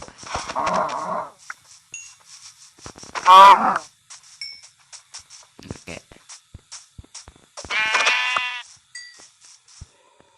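Minecraft animal sounds, with cow moos among them, come in short bursts between clicks and game effects, while a person talks faintly at times.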